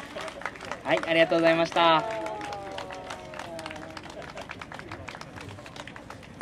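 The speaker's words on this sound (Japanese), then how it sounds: "今一度大きな拍手をお送りください。" Audience applause at an outdoor jazz festival performance in a Sendai park, a burst of clapping and cheering that fades into scattered claps while someone speaks over it through a PA.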